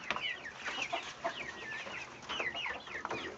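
Chickens cluck and chirp close by as they are fed corn, a steady stream of overlapping calls with a few sharper squawks and no talk.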